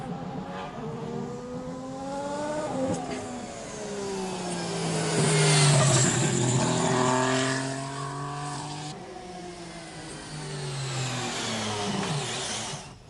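A Formula One race car with a turbocharged 1.6-litre V6 engine screams through repeated rev climbs and gear changes, its pitch rising and falling in sweeps. It is loud and nearby, swelling mid-way as if passing, with no voices.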